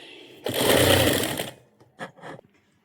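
A sewing machine stitching the neck of a blouse runs in a loud, close one-second burst, then gives two short stitching bursts before stopping, with no voices.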